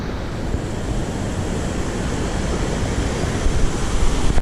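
Mandakini river flowing beside the trail at Gaurikund, a steady broadband rushing roar of fast mountain water with light wind buffeting, continuous and close throughout.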